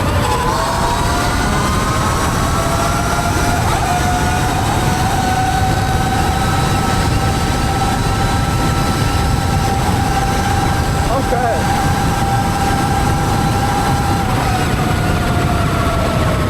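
A 20kW Valtinsu EM-5 electric motorbike accelerating in mode 2, its motor whine rising and holding steady under loud, constant wind rush, with brief speech over it.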